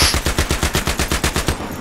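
Rapid automatic gunfire from the video game Battlefield 3, a loud, steady burst of about a dozen evenly spaced shots over nearly two seconds, with no voices over it.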